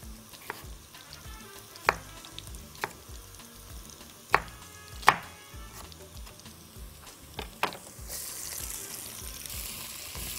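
Onion, garlic and peppers fry in a pan for a quick Egyptian moussaka, a soft steady sizzle punctuated by several sharp clacks of a spoon stirring against the pan, close and fairly quiet, with a brighter hiss rising near the end.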